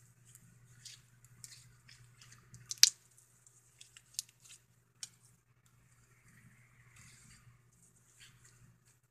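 Crunchy butter slime being mixed by hand, giving soft wet squishes and small splashing clicks, with one sharp splat near the middle and quieter squelches scattered through, close up over a low steady hum.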